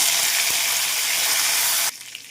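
Cumin seeds and curry leaves sizzle loudly in hot oil in a pan, a dense steady crackling hiss up close that drops abruptly near the end to a quieter simmer.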